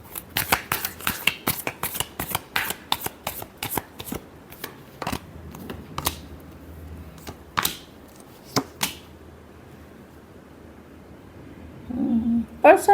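Tarot cards being shuffled by hand, a quick series of crisp riffling snaps and flutters that slows into scattered single flicks, with a faint voice near the end.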